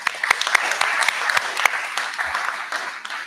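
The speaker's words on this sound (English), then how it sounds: "I just want to give everybody a round of applause" Applause from a small audience at a press conference on grant awards, a few distinct nearby hand claps over a softer spread of clapping, fairly loud and uneven in rhythm.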